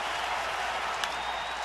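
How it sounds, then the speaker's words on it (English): A loud crowd roars and cheers at a night baseball game, a dense steady wash of noise with no break. "Very loud crowd here tonight."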